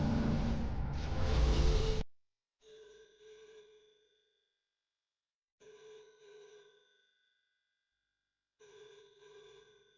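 An old telephone bell rings in three separate double-ring bursts with silent gaps between them, following a loud noisy burst at the start, clear and alone.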